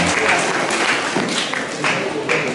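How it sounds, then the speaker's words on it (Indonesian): An audience at a high school literacy presentation claps steadily, a full, even wash of applause with crowd noise and a voice speaking over it. "Kita beri aplaus sekali lagi untuk"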